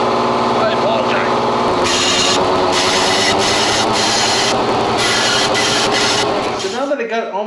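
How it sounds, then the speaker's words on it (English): A power drill whirs steadily against metal while modifying an intake on a small-block Chevy 305 engine, with a busy mechanical grind filling the clip until it winds down near the end. "all the drilling, I'm getting close."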